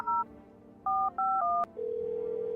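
Telephone keypad tones in a video game: three short two-tone beeps followed by a steady single tone, clean and close with no voices.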